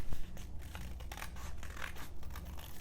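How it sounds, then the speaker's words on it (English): Scissors snip through sandpaper along a drawn line, a run of short, close, raspy cuts at an uneven pace with no talking. "then cut along the line"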